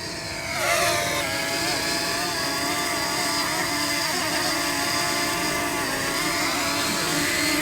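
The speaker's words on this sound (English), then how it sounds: "I'm gonna try to land my drone onto this soccer ball" A small quadcopter drone whirs loudly as it flies and attempts to land on a soccer ball, a steady high buzzing drone of rotors that rises in pitch at the start and holds near the microphone.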